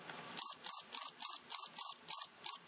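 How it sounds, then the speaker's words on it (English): A cricket recording played back from YouTube gives a steady run of eight evenly spaced, loud, shrill chirps after a brief quiet start. "I brought up a cricket on YouTube and somebody recorded it."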